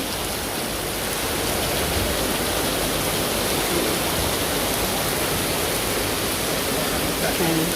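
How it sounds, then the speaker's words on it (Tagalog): Steady, heavy rain pours down in a constant dense hiss, with no break from start to finish. "Grabe lakas sa ulan."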